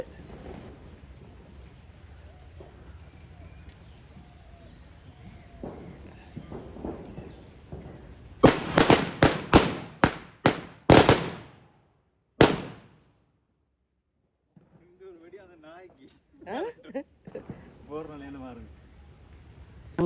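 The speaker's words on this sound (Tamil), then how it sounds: "இங்கால வெடி சத்தம்" Crickets chirp in the background, then a rapid string of loud, close firecracker bangs goes off during Thai Pongal celebrations at a home in Kilinochchi, Sri Lanka. Afterward the bangs stop and people talk.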